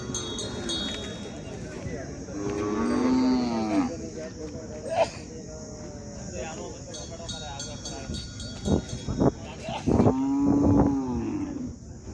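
A cow moos twice at a Khillar cattle market in Sangola, long deep calls near the start and again toward the end, amid steady crowd chatter and people talking close by.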